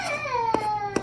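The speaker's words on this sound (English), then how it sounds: "You can hear my grandbaby in the background." A baby whimpers and coos with rising and falling cries, a couple of short sharp bursts, fairly close with no talking.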